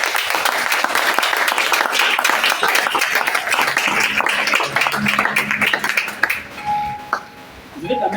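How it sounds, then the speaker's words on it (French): A church congregation breaks into sustained applause and cheering to acclaim the Lord, loud dense clapping that tapers off near the end, with voices mixed in. "Est-ce que nous pouvons acclamer le Seigneur?"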